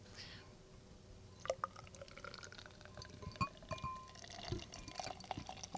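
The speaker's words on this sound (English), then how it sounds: "I got to pour the beer" Beer poured into a glass, a faint liquid trickle and drips with small glassy clinks, close by but quiet against background room noise.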